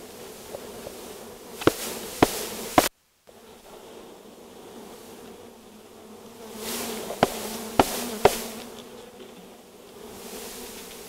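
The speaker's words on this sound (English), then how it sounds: "we're going to put these bees in the hive" A mass of honeybees is poured into a new hive, giving a steady, droning buzz close by. Several sharp knocks break in as the hive is banged to clump the bees, with a brief silence partway through.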